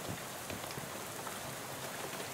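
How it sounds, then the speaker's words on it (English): Steady rain falls in the video game West of Loathing, an even, continuous hiss of drops splashing on surfaces with no pauses or voices. "looks up and lets the rain splash on his face for a while"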